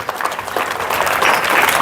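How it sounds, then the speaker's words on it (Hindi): Loud applause from a school audience at an AI awareness program, dense clapping that builds steadily and stays strong throughout, close and filling the room. "एक जोरदार तालियां उनके लिए"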